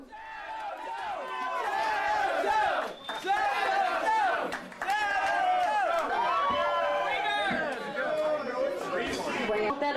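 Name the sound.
concert crowd demanding more from the band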